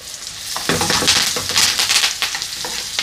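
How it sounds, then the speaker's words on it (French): New potatoes sizzle steadily in a pan while being basted with foaming brown butter, a close, continuous frying hiss with crackles and scraping spoon strokes. "Et on vient arroser nos pommes de terre."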